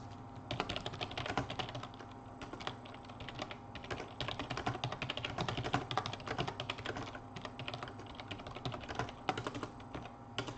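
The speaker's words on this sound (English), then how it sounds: "I can't type on this stupid new keyboard." Continuous typing on a new computer keyboard, with rapid clattering keystrokes in steady bursts, close up and fairly loud, no talking.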